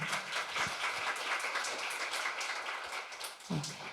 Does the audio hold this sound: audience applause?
yes